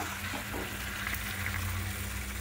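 Chicken malai curry frying in a pan as it is stirred, a steady close sizzle with occasional scrapes of the spoon, no voices.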